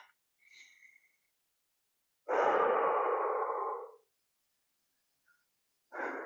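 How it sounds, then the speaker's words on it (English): A long, deep, audible breath is drawn during seated resisted hip and knee arthritis exercises, followed a moment later by the start of a second breath. Both are close and stand alone against silence. "So 2 deep breaths."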